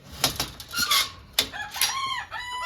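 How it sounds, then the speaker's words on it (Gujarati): A large rooster crows loudly and close by, with several drawn-out calls and a few short clucks from nearby fowl mixed in. "એમ બોલો કે મોટા કુકડા બોલ્યા."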